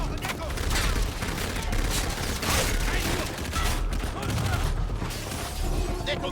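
Dense, continuous gunfire rattles nonstop in the PS4 shooter Call of Duty: Infinite Warfare, with rapid bursts and occasional booms layered with game voices.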